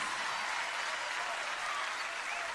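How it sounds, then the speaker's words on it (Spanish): Theater audience applauding comedian Sergio Torres at a live show, a dense, steady wash of clapping throughout, fairly soft and even. "El aplauso para Sergio Torres."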